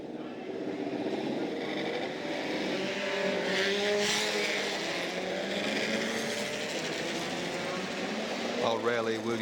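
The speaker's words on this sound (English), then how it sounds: "Rarely will you see such an exotic array of motor racing machinery" Racing cars on the Sandown motor racing circuit produce a continuous, loud, layered engine roar, while someone talks over the noise throughout.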